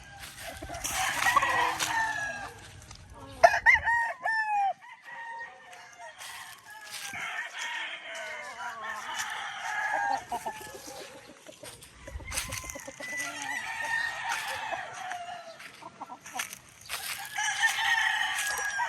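A straight-comb bulik gamefowl rooster crows several times, close and loud, with clucks and other fowl calls from nearby birds and no talk.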